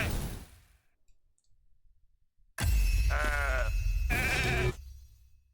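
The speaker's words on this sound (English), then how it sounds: "let's see if I can sheep him" In the RAID: Shadow Legends arena, a sheep polymorph effect plays as a loud, abrupt, wavering bleat of about two seconds with clicking, following quieter game sounds.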